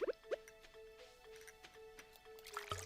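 A watering can waters crops in Stardew Valley with soft, quick water splashes and drips. They are spaced among light game chimes and a faint background tone, and the sound is quiet throughout.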